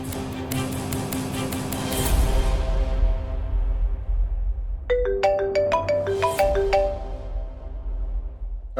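A repeating electronic ringtone melody chimes in bursts, bright and clear, over a low steady hum and background noise.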